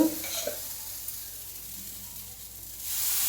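A laddu mixture with ground chickpea flour is stirred in a pan, giving a faint, soft sizzle and scraping. It fades in the middle and swells again toward the end, with no talking.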